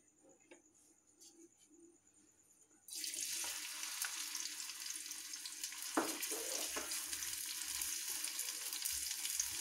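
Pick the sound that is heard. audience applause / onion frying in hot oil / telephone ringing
onion frying in hot oil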